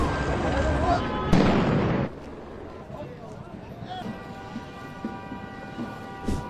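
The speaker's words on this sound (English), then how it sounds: "The LAPD moving in on horseback, firing rubber bullets at protesters" Police in Los Angeles fire rubber bullets at protesters: one loud, abrupt bang, then quieter rumbling street noise and scattered distant sounds.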